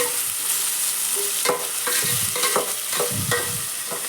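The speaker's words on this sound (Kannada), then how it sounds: "ಈಗ ಮಿಕ್ಸ್ ಮಾಡಕತ್ತಾರ ನೋಡ್ರಿ ಅಷ್ಟೇ ಎಲ್ಲ ತರಕಾರಿ ಹಾಕಿ" A spoon stirs mixed chopped vegetables, onions among them, in a hot pan for a chutney, scraping and clinking in irregular strokes over a steady sizzle.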